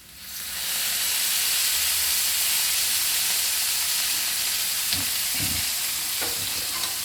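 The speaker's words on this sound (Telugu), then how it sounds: "ఇది ఆయిల్లో బాగా ఫ్రై కావాలండి బాగా డార్క్ బ్రౌన్ వచ్చేంత వరకు ఫ్రై కావాలి" Bitter gourd frying in hot oil, a loud, continuous hissing sizzle that swells in at the start and holds steady, with a few soft stirring knocks near the end.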